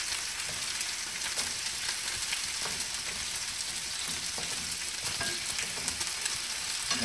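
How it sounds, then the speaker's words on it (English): Honey garlic chicken fries in sesame oil with a dense, continuous sizzle, the oil spitting and popping in scattered sharp crackles close by, no voices over it. "He doesn't like getting sprayed with spitting, popping oil"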